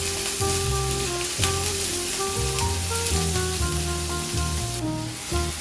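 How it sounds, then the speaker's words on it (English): Chopped onions and green peppers sauté in a pan with a steady soft sizzle, mostly buried under louder background music. "I want to just saute these a little bit to let them start releasing their flavors."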